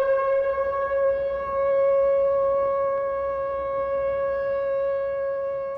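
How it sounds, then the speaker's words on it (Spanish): A loud, steady World War II air raid siren wails continuously on a single sustained pitch, with rich harmonics and no other sounds. "Eso es una sirena original de la Segunda Guerra Mundial."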